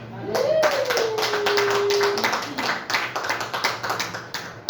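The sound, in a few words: congregation applauding in church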